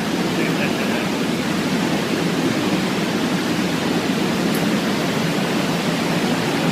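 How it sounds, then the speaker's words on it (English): A river roars beneath an ice cave, a loud, steady broadband rush that fills the space without a break, close and enveloping. "The roar of the river is crazy loud"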